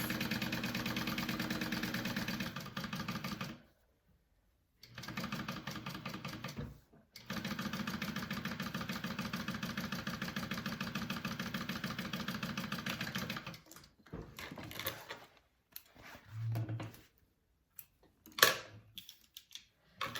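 A sewing machine topstitches a seam on a bag in steady rapid runs, stopping twice and then sewing short bursts. Light handling clicks fill the pauses.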